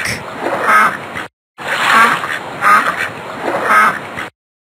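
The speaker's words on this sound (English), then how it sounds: "Duck." A duck quacks loudly and close in three bursts of rapid quacking, separated by a short silence.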